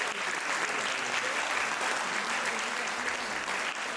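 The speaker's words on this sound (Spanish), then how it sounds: "Un aplauso fuerte para él." An audience claps steadily for a speaker at a university lecture, a full, even wash of applause throughout with no speech over it.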